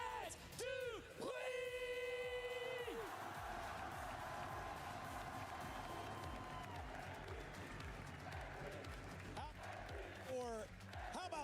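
Esports watch-party crowd at an Esports World Cup quarterfinal in Paris, cheering, yelling and whooping loudly and continuously for about ten seconds, with sustained bellowed tones and a roaring mass of voices that stays dense throughout.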